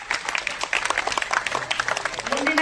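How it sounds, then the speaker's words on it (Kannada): At a government school festival, an audience gives a performer a burst of lively hand clapping, steady and fairly close, with some voices mixed in. "ನಮ್ಮ ನಿರೀಕ್ಷಾಗೆ ಒಂದು ಚಪ್ಪಾಳೆ"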